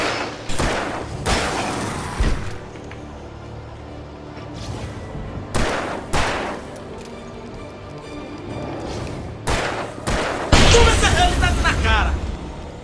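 Loud booming gunshots fire in separate bursts with pauses between, ending in a dense volley, in Alan Wake Remastered.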